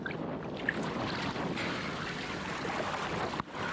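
Waves and churning white water rush past while windsurfing on a desert trip, a steady roar of water mixed with buffeting wind noise on the microphone, close and continuous, with one brief dip near the end.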